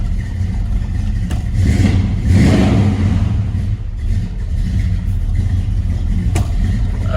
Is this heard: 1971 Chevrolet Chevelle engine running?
yes